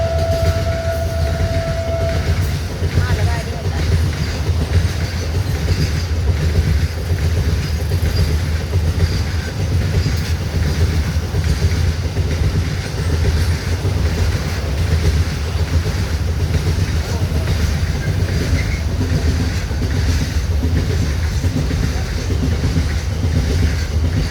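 A train rumbles loudly and continuously close by, with a brief horn blast at the start and a steady rattling roar that carries on throughout.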